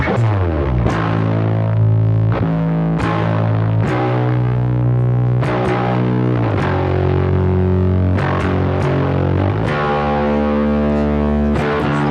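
Heavily distorted bass guitar through a Rat distortion pedal plays a loud, gritty riff of sustained notes and chords, fuzzy and saturated, with no voices.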